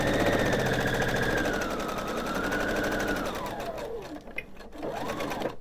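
A sewing machine stitches the casing of a fitted crib sheet, running steadily and close, then slowing down and stopping near the end.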